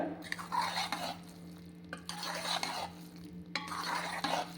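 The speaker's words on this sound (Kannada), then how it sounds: "ಇದನ್ನ ಇವಾಗ ನೀಟಾಗಿ ಮಿಕ್ಸ್ ಮಾಡ್ಕೊಳ್ಳೋಣ" A spoon stirring cooked moong dal khichdi in a pressure cooker pot, making soft repeated scraping and squelching strokes up close, several bursts separated by brief pauses.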